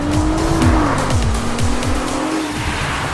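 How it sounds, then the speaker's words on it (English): A Nissan GT-R Nismo twin-turbo engine roars loudly and continuously, its pitch climbing as it accelerates hard, with a gritty rasp and no talking. "You put your foot down and it just takes off with so much aggression."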